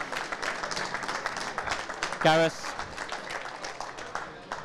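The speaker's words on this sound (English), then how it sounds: "let's give both of these players a round of applause" Audience applause after the elite men's final at the IPA European Championship pool event, a steady patter of clapping running beneath someone speaking over a microphone.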